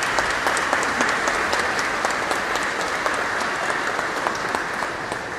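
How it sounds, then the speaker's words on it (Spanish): A crowd at an outdoor gathering applauds steadily with dense clapping at close range, sustained evenly throughout with no voices above it. "Les pido también un aplauso para ellos."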